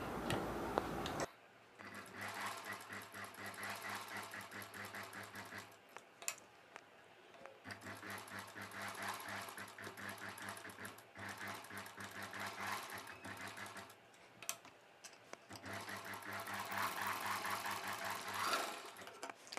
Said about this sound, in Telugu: ఇప్పుడు ఈ నెక్ పార్ట్కి చుట్టూ కుట్టు వేసేసుకోవాలి